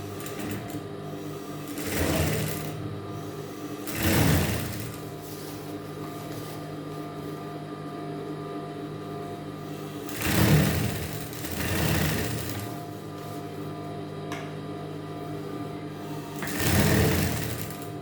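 A sewing machine stitches the second sleeve of a shimmy garment in five short bursts of whirring, separated by quiet pauses, heard close and alone without speech.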